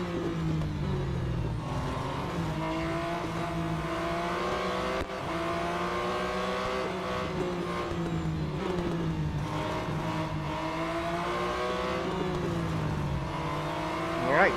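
Race car engine in the Real Racing 3 video game, revving and climbing through gears with rising and falling whines, a continuous loud drone and occasional shifts, no voices.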